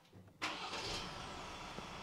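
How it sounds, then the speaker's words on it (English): A 2023 Ford Ranger Raptor engine cranks and catches after a brief quiet moment, then settles into a steady idle hum. "Watch this when you start the car up."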